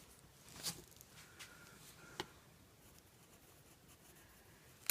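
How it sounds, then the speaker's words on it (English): A pencil coloring in apple seeds on a journaling Bible page, with faint scratchy strokes and a few sharper taps in a quiet room. "And so we're just coloring those in with the pencil."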